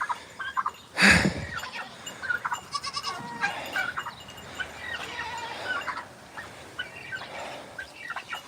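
Goats on a farm bleat and call, one loud close cry early on followed by fainter bleats and bird-like calls from other livestock scattered through the background, with no talk.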